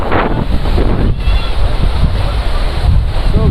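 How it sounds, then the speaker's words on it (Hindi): Water surges in at a fishing spot with a loud, continuous rushing roar, heavily buffeted by wind across the microphone. "आप लोग देख सकते हो कैसे कैसे पानी आ रहा है।"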